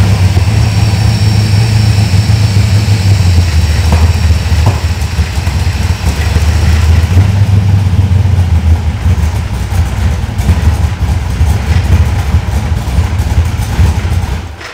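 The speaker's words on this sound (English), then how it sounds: "We're gonna crank the engine." A car engine with FiTech EFI fuel injection catches and settles into a steady, loud idle with a low rumble that surges briefly, running continuously throughout.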